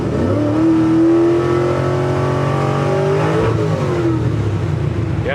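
A car with a camshaft-swapped LS engine accelerates hard at partial throttle, its loud engine note climbing steadily in pitch over several seconds, dipping briefly at a shift and then rising again close to the microphone.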